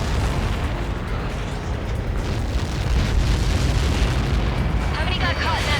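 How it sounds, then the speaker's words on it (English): Massive blast in the video game Ace Combat 7, a loud sustained rumbling roar of explosion and debris that fills the whole stretch, with jet noise and crackling layered over it and voices heard amid the din. "How many got caught in that explosion?"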